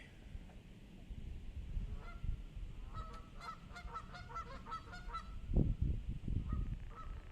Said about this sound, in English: These geese are planning something.